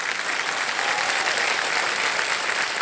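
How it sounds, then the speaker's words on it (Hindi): Studio audience on the KBC quiz show applauding a contestant: a steady, dense wash of clapping that holds at an even level throughout, with no talking over it. "बहुत बहुत बधाई आपको, तालियां बच जाए इनके लिए।"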